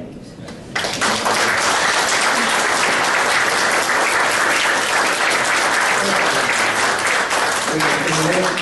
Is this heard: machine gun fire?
no